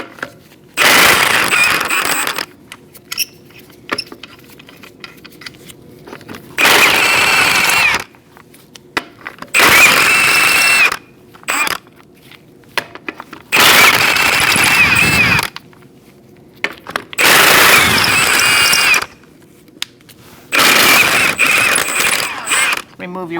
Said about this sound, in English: Using a 19mm socket, we're going to remove our wheel.